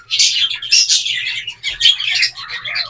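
A pet bird ready to breed, its beak turned fully black, gives a loud, close run of bright repeated chirps and calls in several bursts, with a faint low cooing underneath.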